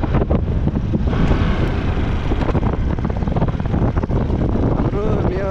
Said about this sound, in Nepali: अर्को त हावाको साउन्ड मात्रै घ्याँ कराउँछ।